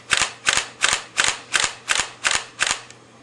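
A Sony A300 DSLR shutter firing continuously at about three frames per second, eight crisp, evenly spaced mechanical clacks up close, each with a quick double snap, then stopping.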